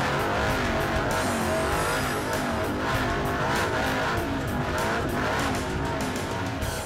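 A 6.2 liter V8 truck engine built for a Raptor running hard on a chassis dyno at high speed, a loud, sustained, roaring drone with rough pulsing texture that continues unbroken throughout; no talking.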